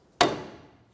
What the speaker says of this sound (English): we'll carefully take our hammer and give it a couple loving bonks